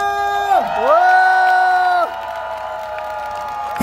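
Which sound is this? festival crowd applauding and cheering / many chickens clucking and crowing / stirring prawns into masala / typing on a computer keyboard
festival crowd applauding and cheering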